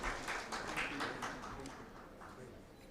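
Applause from an audience at an awards dinner in a Nairobi hotel, a steady spread of clapping that starts fairly loud and slowly tapers off, with some talk mixed in.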